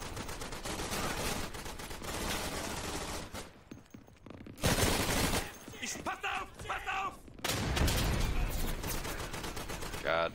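Gunfire in the World War II shooter Day of Infamy: dense, loud bursts of rifle and machine-gun fire fill most of the stretch, with a brief lull before sharp near shots resume amid battle noise.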